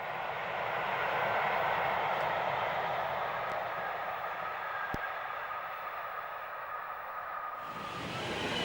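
Steam locomotive Blue Peter on a rail tour passing Vauxhall at the start of a run from Waterloo to Exeter, heard as a steady broad rushing roar of a passing train with a few faint clicks, with no talk.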